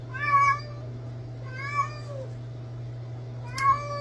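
A female cat in heat yowls three times for a mate at night, long wavering meows spaced about a second and a half apart, loud and close over a steady low hum.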